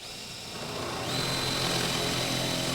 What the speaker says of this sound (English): I'm going to go ahead and drill the holes to fit either one